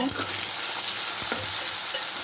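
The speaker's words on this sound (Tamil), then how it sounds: "தக்காளி வெங்காயம் கத்திரிக்காய் போட்டு எண்ணெயில் போட்டு வதக்கிட்டு இருக்கேன்" Tomato, onion and brinjal sautéing in hot oil for brinjal kara kuzhambu, a steady close sizzle with a few soft stirring scrapes, no talking.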